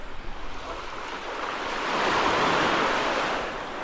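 Surf washes steadily onto Sugar Beach in Saint Lucia, a soft broadband rush that swells louder midway as a wave breaks and then eases, with no voices.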